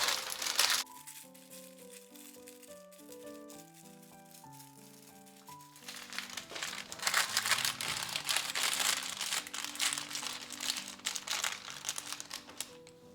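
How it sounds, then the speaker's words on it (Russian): Parchment paper being folded in half and tightly crimped around a piece of fish for oven baking: close, crackling crinkles that grow busier in the second half, with soft background music playing throughout. "Теперь бумагу складываю вдвое и плотно подворачиваю край."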